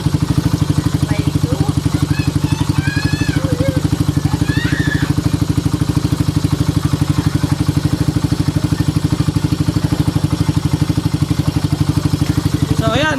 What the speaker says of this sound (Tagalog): tunog ng makina kung gaano katahimik